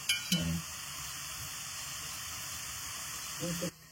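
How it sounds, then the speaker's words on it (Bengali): Romanian papanasi dough deep frying in hot oil gives a steady, even sizzle throughout, with a short burst of voice near the start and another near the end. "1 মিনিট গরম তেলে ভাজা হবে।"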